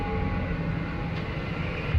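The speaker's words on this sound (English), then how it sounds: "Vibrations of the train kind of open the door, making sounds." A train rumbles steadily past a house in the woods, a low, continuous drone that stays loud throughout with no talking.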